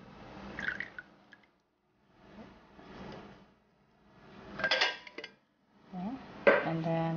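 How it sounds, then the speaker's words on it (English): Coconut milk pours into a small bowl in a few short bursts with light clinks of the bowl and utensils, close by, pausing between pours. "Pour the coconut into this little bowl."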